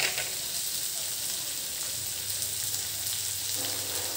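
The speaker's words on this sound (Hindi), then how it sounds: "अब हम इसको एकदम लो फ्लेम पर रखेंगे, क्योंकि हमें फ्राई चाहिए।" Onions fry in a pan over a very low flame, giving off a steady, even sizzle that carries on without a break, close by and with no talking.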